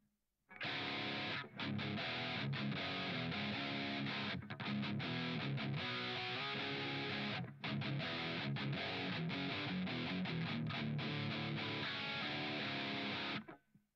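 A heavily distorted electric guitar through the BIAS AMP 2 amp simulator plays loud chugging riffs with a few short breaks, thick and saturated.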